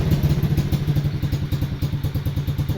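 A motorcycle's freshly rebuilt engine chugs at a fast, even, thumping rhythm, close and loud, with a mechanical clatter running throughout.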